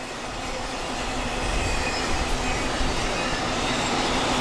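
An eastbound CSX freight train rolling past at speed, a loud, steady, close rumble of wheels and cars with a faint squealing tone running throughout, no breaks and no voices.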